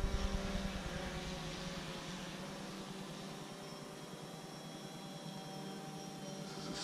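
A DJI Phantom 4 drone flying in sport mode with full throttle, giving a steady, fairly faint high-pitched propeller whine and hum that holds throughout.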